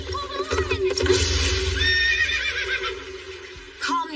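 A horse in a fantasy anime scene lets out a loud, close whinny with wavering pitch that rises and falls over several seconds, with a brief snort or shuffle near the end.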